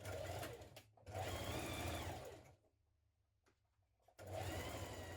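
Domestic sewing machine stitching a 1.5 cm seam on a tunic top, running in two steady, close bursts of rapid whirring with a brief stop between them and a quiet pause before it starts again.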